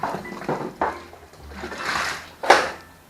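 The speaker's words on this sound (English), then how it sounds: "It's bottle washing time." Glass jars being washed for crab apple concentrate, with water sloshing and splashing and glass clinking and knocking, ending in a sharper clatter.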